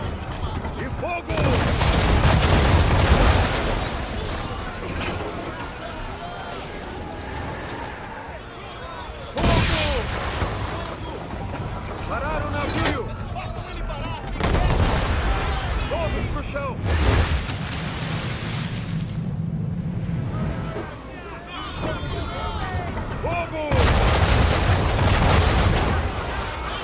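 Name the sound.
cannon fire in the video game Assassin's Creed III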